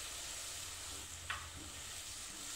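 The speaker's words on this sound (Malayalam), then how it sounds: "ഇനി നമുക്കതിലേക്ക് ഈ പാല് ഒഴിച്ചു കൊടുക്കാം." Carrot halwa cooks in a pan after milk is poured in, giving a steady, soft sizzle with faint stirring and one brief clink, heard alone without talk.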